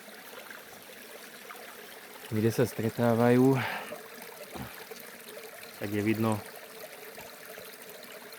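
A small, slow side brook trickles into a slightly larger brook, a soft, steady running-water hiss heard faintly from close by while someone talks over it in short stretches.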